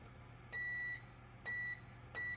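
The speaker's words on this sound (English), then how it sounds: "I'm using a Southwire continuity meter to see." A Southwire continuity meter beeps three times in a steady rhythm, each tone lasting about half a second, as it tests the defroster grid on the rear window of a 2015 Chevrolet Tahoe, with a low background hum between beeps.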